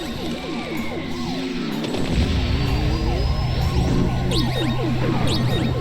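A wailing electronic siren item in KartRider Rush+ sweeps up and down repeatedly over a dense, busy racing game soundscape with rumbling and clattering effects.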